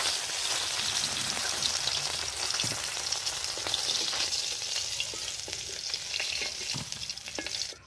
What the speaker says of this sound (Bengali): শুক্তার জন্য শিং মাছ ভাজা হয়ে গেছে,